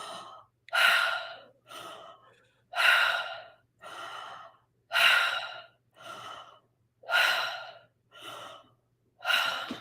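Several people take deep breaths through the mouth during a breathing exercise, a steady series of about nine loud, airy inhales and exhales alternating in slow rhythm, close and clear with no talking.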